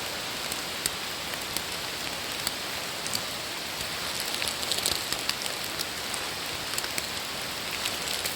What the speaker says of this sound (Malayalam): മഴയാണ് മഴ.